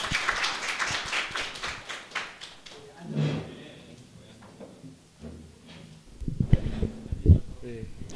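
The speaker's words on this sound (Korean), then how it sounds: "박수 맞아주세요." Audience applause welcomes a guest speaker at a mentoring talk, with a burst of clapping at the start that fades quickly, followed by someone speaking and some scattered taps and shuffling.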